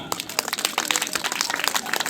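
A school audience bursts into loud, sustained applause, with dense clapping continuing steadily throughout and voices mixed in.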